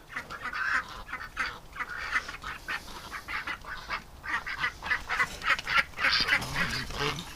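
Several small recovering ducks quack and honk continuously at close range, a busy overlapping chorus of nasal calls with no one talking.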